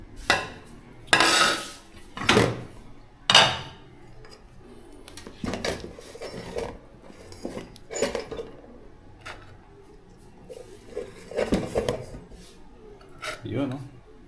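Food scooped from a pot with a serving ladle, with several loud metallic scrapes and clanks of ladle on pot and utensils, spaced irregularly, while a person talks between the clatter.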